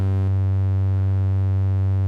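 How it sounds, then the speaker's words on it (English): Steady, loud drone of a rounded sine-wave tone from a Malekko Richter Megawave oscillator in a modular synthesizer, held continuously with a slight shift in tone early on. "you can see right there kind of a nice rounded sine wave"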